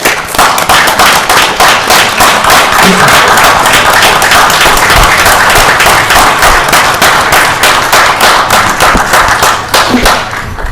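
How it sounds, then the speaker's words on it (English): Very loud, close applause breaks out at a town board meeting for highway and grounds workers, many hands clapping in sharp, rapid bursts that continue steadily throughout. "These guys deserve a round of applause."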